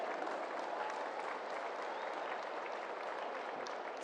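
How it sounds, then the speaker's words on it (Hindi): Steady applause from a large audience greets PM Narendra Modi at the GCMMF Golden Jubilee celebration in Ahmedabad, Gujarat, a dense, even wash of clapping that fills the hall at moderate distance without pause. "आइए जोरदार तालियों के साथ स्वागत करते हैं।"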